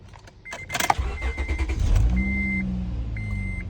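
A used car at a dealer-only auction cranks with a few sharp clicks and whirs, then catches and settles into a steady idle, with a thin electronic chime sounding intermittently.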